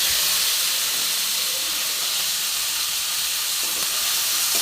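Young drumstick stalks go into hot oil in a pan and give a loud, steady hissing sizzle that runs unbroken from start to finish.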